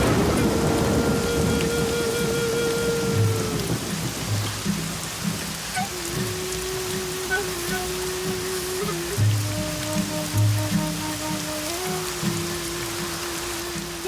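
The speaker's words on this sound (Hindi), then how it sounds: "बिना छतरी लिए कहाँ जा रहा है बारिश में?" Steady rain pours throughout, with a low thundery rumble beneath and sustained musical tones layered over the downpour.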